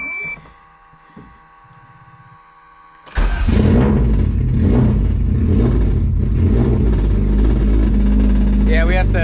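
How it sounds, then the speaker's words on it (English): A Honda EF hatchback engine cranks and fires up abruptly after a quiet moment, then settles into a loud, rough idle close by. "All right, go ahead, start it up."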